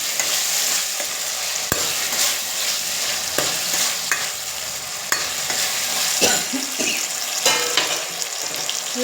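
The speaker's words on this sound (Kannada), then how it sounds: "ಇವಾಗ ಇದು ಫ್ರೈ ಆಗ್ತಾ ಇರಲಿ" Mutton with tomato and salt fries in a pan, a continuous close sizzle punctuated by repeated sharp knocks and scrapes of a stirring spoon against the metal, no talking.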